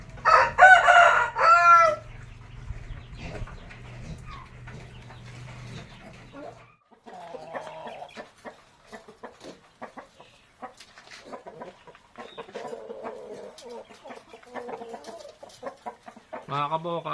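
A Dong Tao cross Shamo rooster crows loudly once up close, then low clucks and scattered farmyard sounds follow, with a voice speaking at times.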